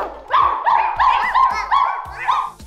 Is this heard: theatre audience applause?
no